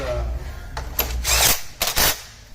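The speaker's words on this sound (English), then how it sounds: "we're going to go ahead and snug it up to the factory specs here at 58 foot-pounds" Pneumatic or power tool tightening a wheel bolt on a Honda ST1300 motorcycle to 58 foot-pounds, heard as several short close bursts of whirring and rattling impacts with pauses between them.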